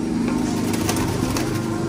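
Low pigeon coos murmur through a noisy, busy background at a pigeon shop, with voices nearby.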